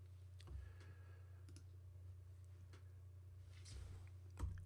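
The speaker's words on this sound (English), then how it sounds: "I can just type 5 on my keyboard" A few isolated key clicks on a computer keyboard while adjusting opacity in Photoshop, spaced irregularly about a second apart, quiet and close, over a steady low electrical hum with no voices.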